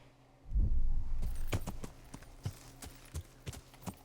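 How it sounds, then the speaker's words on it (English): A horse gallops in the medieval video game Kingdom Come Deliverance, starting with a loud thudding burst, then settling into a rhythm of hoofbeats that ring out clearly and evenly. "we're going to gallop as fast as humanly possible."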